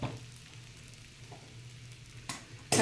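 Sabudana khichdi cooks in a pan with a faint, steady low sizzle, broken by a couple of brief sharp scraping or clinking sounds near the end.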